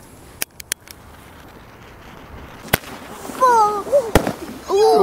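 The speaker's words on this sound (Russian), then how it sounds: "Бабахать салют будем, Лев." Fireworks go off outdoors with a few sharp separate bangs early on, then louder pops later, while people's voices talk and exclaim over them.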